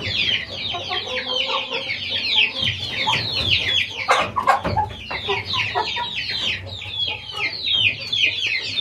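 Young hens on a small farm cluck and chatter continuously in a busy flock, with overlapping short calls close by and a rooster-like call now and then, without any talk.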